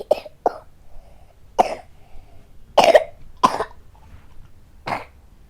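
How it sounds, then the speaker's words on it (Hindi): A child coughing in a series of about six short, separate dry bursts with quiet gaps between them, close and clear. "खांसी बढ़ गई है इसकी, खांसी।"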